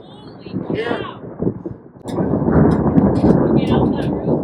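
Thunder from a nearby lightning strike rumbles loudly outdoors in gusty wind, with excited voices shouting over it.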